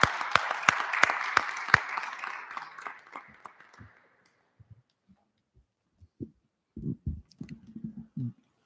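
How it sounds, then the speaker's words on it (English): Applause at a Warwick city council meeting: a room of people claps in a dense patter with a few sharp claps standing out, then it fades to silence within about four seconds, followed by faint low murmurs and thumps. "Bill, I know the applause cut you off."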